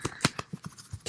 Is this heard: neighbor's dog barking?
no